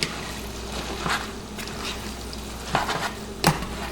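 Spaghetti being stirred into a ground beef sauce in a pan: steady sizzle and wet squishing with a few louder scrapes and clinks of a utensil against the pot, close and continuous.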